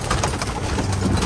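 Belgian and Dutch pigeons coo on a rooftop, with a brief burst of soft, throaty cooing from several birds blending into a dense, noisy background.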